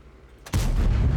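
A single heavy tank gun shot from World of Tanks, T95E6, booms out after a quiet moment, loud and close, with a rumbling tail that holds to the end.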